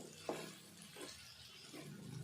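Potato and brinjal pieces fry quietly in oil with a soft, faint sizzle, broken by a few light stirring scrapes spaced apart.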